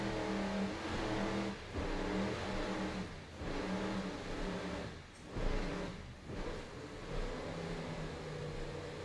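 Super V race car at a 2002 Cape Cod race, a steady engine drone that swells and dips as the car slows after the finish, with a few short breaks in the sound and no voices.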